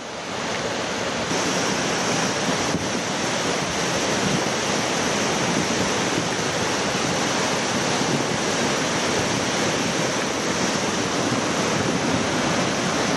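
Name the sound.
river rushing, carrying debris downstream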